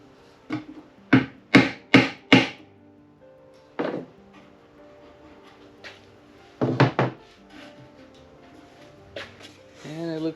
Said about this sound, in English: Now I'm going to tap that down in there.